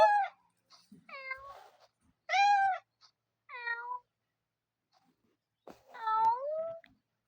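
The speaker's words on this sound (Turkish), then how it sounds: "kediciğim niye ma miyavlıyorsun?" A cat meows repeatedly, several distinct drawn-out mews with pauses between them, close and clear with no talking.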